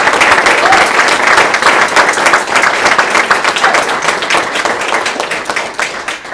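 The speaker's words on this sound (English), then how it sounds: "So can we get a round of applause for all of them?" Sustained applause for students after their presentations at a summer enrichment program, a dense, loud wash of many hands clapping steadily throughout with no talk over it.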